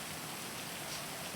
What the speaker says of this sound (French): Il pleut encore